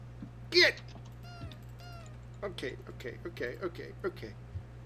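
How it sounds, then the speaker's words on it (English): A cat meows in the horror video game Five Nights at Freddy's 4, a short bright call near the start, followed by scattered clicks and soft movement over a steady low hum. "I heard a meow."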